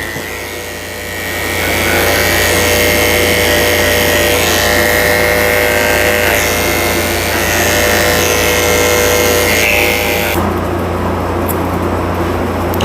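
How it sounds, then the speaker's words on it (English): Electric grooming clippers trim around a dog's feet and between its toes, giving a loud, steady, close motor buzz that holds for the whole stretch and shifts in tone near the end, with no talking. "now I'm trimming up all of his feet and between his toes and cutting his nails"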